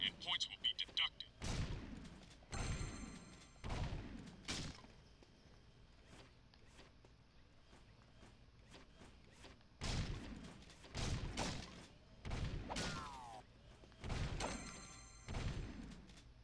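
Gunfire at shooting gallery targets in the video game Jak II, loud sharp shots in irregular bursts separated by quieter gaps, with mechanical clanks between volleys.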